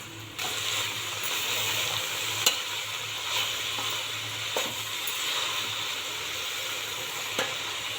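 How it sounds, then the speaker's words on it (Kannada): Rajgira leaf greens frying in oil in a pan, a steady sizzle with occasional stirring scrapes and clinks, close and moderately quiet. "ಇದು ಎಣ್ಣೆ ಒಳಗೆ ಫ್ರೈ ಆಗಬೇಕಿದೆ."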